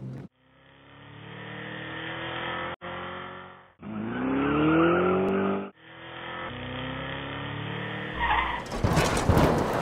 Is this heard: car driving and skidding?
yes